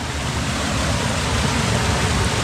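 Strong flow of mountain spring water in Tayabas: a steady, loud, unbroken rushing wash of water with no voices.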